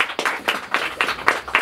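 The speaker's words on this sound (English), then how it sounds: "You clap for her." Hand clapping from a small group at a birthday party, coming in uneven bursts of about six quick, moderately loud claps.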